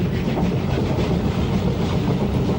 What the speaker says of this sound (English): The train enters Torpanto Tunnel